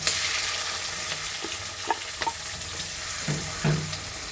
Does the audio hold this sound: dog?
no